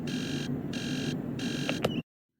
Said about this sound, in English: The alarm start of it.